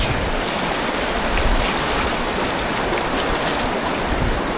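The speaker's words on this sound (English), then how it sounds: "This little series of waves right here is definitely surfable, especially at higher flow." Rushing river water over waves and rapids on the Hiwassee River, a steady broadband roar of churning whitewater close by, continuous and unbroken throughout with no voices.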